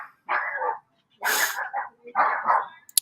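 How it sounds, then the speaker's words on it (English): Several dogs barking up close, three loud bursts of rapid barks separated by short silences, with a yip at the end. "God, my dogs are going nuts."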